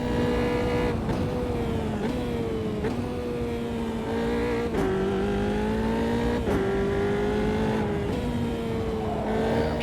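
Formula 3 car engine in a racing sim game, a high, steady whine rising through the revs with quick gear shifts breaking it every second or two, loud and continuous with no voices.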